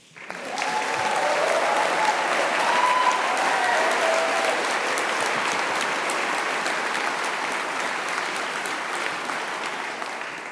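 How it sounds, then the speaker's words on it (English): Sustained applause from a large crowd at a graduation ceremony, loud and steady, with faint cheering voices mixed in, slowly easing toward the end. "Let's get a big cheer for you all."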